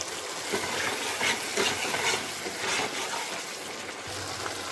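Spice paste fries in oil in a pan, giving a continuous soft sizzle with faint scraping and stirring throughout, fairly close and without talk.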